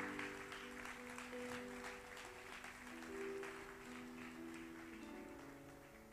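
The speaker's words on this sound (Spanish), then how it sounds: "Denle un fuerte aplauso al Señor." A church congregation claps for the Lord during a Spanish-language sermon, a steady wash of moderate applause lasting several seconds, with sustained tones beneath it, probably organ or keyboard.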